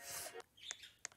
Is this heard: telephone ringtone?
no